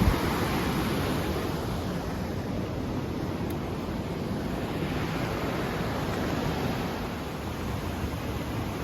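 Steady, loud rush of Vallecito Creek water fills the whole clip, a dense broadband roar with no breaks, like a fast creek close by.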